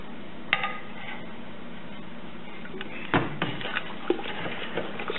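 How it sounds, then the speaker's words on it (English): Liquid malt extract is stirred into a brew kettle for an IPA, with occasional metallic clinks and scrapes of a spoon against the pot over a low steady background, fairly quiet. "stir in this LME"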